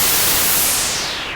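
Broadband white noise from an Arturia MatrixBrute analog synthesizer's noise source, a steady hiss with no other sound, fading slightly and losing some top-end brightness toward the end.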